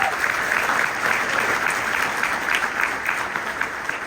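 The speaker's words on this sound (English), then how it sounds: "Give them a round of applause." An audience at a CAIR Sacramento event applauds with steady, sustained clapping that holds at an even level throughout, heard from a middle distance.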